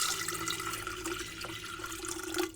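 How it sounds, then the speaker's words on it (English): Water pours steadily into a kettle, a continuous close splashing rush that swells slightly near the end, with no talking over it. "You pour the water into the kettle."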